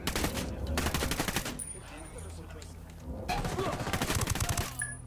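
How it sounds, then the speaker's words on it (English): Gunfire in Ghost Recon Wildlands: two loud bursts of rapid automatic shots separated by a short lull, close by. "Shot heard."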